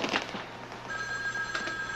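A telephone rings briefly in an office setting, a steady electronic tone sounding once or twice at moderate volume over faint room noise.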